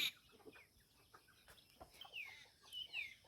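Faint clucking from several hens, soft scattered calls close by, with no talking.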